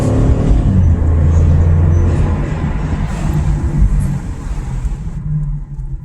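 A car pulls out onto a road, its engine rumbling loud and close with a low steady drone that builds slightly and then eases off as the vehicle moves away.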